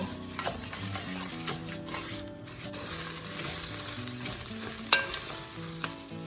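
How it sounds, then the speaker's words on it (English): Onion and garlic frying in oil for Mexican red rice, a continuous crackling sizzle with repeated clinks and scrapes of stirring, close and moderately quiet. "I'm gonna give this a good mix so that everything gets coated in the oil."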